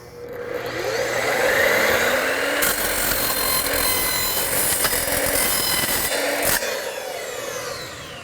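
A powered saw cuts soft, flimsy steel stud track for house walls with a loud, continuous grinding whine and metallic rasp, up close, then stops abruptly near the end.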